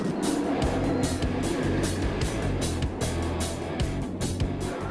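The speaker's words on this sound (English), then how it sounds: "The most explosive takeoff of any thrill ride on the planet." The Hulk roller coaster at Universal Orlando launching from its takeoff, a loud, steady roaring rush of machinery and wind with rapid rumbling clatter throughout, close and sustained without pause.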